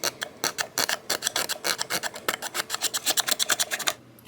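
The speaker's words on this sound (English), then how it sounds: "this fretboard is going to need a good cleaning, so we'll go ahead and scrape it" Rhythmic scraping across the fretboard of a used Epiphone Les Paul Studio guitar, a quick series of close, raspy strokes repeated steadily for about four seconds before stopping.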